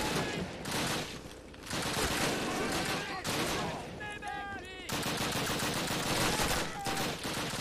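Dense gunfire from the Call of Duty 1 video game, with rapid bursts of automatic fire from several directions pouring in nearly continuously, loud and close, with brief gaps between volleys.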